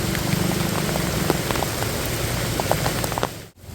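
Heavy rain pours steadily onto a surface outdoors during a bamboo-gathering trip, a dense continuous hiss of drops with occasional louder splats, close and unbroken until a brief dropout near the end.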